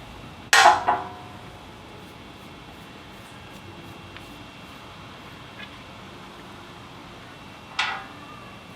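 A screwdriver prying a plug out of a hydraulic fitting on a 40-tonne log splitter: two sharp metallic clinks, one near the start and one near the end, with near silence between.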